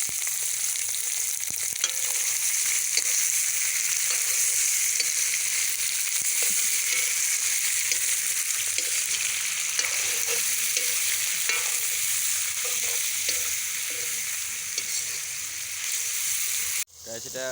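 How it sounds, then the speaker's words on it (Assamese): Meat frying with potatoes and radish after onion, chili and garlic went in, a steady close sizzle with stirring scrapes for most of the stretch, cutting off sharply near the end; quiet voices murmur faintly underneath. "বোলে এয়া আলু আৰু মূলা মাংস লগত ভাজিব।"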